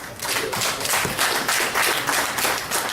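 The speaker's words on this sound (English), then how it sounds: "Please give him a round of applause." A crowd at a Nigerian universities entrepreneurship training event applauds steadily, dense clapping filling the whole stretch at an even loudness without pause.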